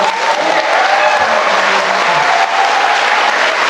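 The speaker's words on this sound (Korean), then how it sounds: "오늘 여러분들에게 박수 한번 주십시오" A large crowd of about 1,500 at an indoor redevelopment briefing claps in sustained, dense applause, loud and steady throughout.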